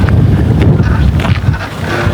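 Strong seashore wind buffets the microphone along a beach in Zambales, a continuous low roaring rush with gusts swelling and easing throughout.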